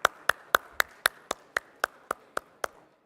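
Sharp, evenly spaced claps at a fintech festival after a speaker is introduced. About eleven crisp strikes land at a steady beat, each clearly separated, with near silence between them.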